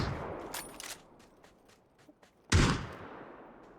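Gunfire from the battle-royale game PUBG, likely a Vector used on single-shot fire: a few scattered light reports early on, then one loud close blast at the midpoint that rings out and fades.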